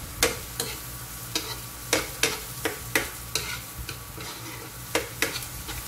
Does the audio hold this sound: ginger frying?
yes